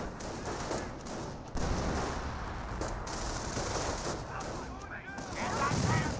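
A rifle squad firing in Company of Heroes, a World War II strategy game: steady, dense rifle and machine-gun fire rattling throughout, with a few sharper cracks and impacts near the end.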